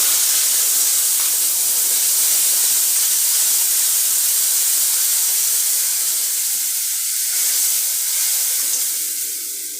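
Ginger, cumin and tomato paste frying in hot oil give a steady, loud hiss and sizzle that runs the whole time with little change, easing slightly toward the end, with no voices.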